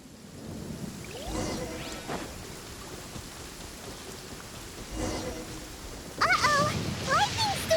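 A thunderstorm in the video game Genshin Impact, with steady rain hiss and low rumbling thunder rolls, joined by game sound effects and chirpy tones toward the end; the weather sound runs alone without talk.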